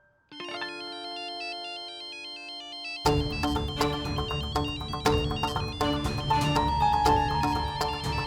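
A mobile phone rings from inside a bag, its melodic ringtone starting as a sparse, thin tune and then swelling into a fuller, busier melody that keeps playing steadily with no one speaking.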